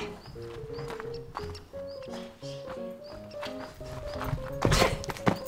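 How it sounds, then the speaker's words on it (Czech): Horse hooves clip-clop on a ranch in a quick, uneven series of knocks over a melodic tonal background, growing louder toward the end. "první kůň, kterýho jsem tady spatřila"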